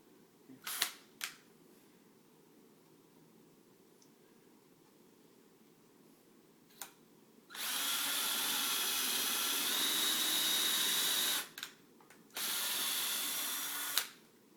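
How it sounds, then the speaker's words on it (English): An electric drill whirs loudly in two steady bursts drilling a hole in wood, each lasting a few seconds, with brief clicks and quiet pauses between them. "So I'm drilling a hole, just a hole."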